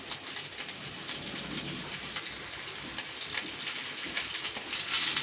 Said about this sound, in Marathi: एक एक मासा मी तळून घेणार आहे आता.